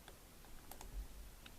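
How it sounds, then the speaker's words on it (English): A few light computer keyboard keystrokes entering a value, sparse quiet clicks spaced apart against faint room noise, no voices. "type in 90 degree and then click OK"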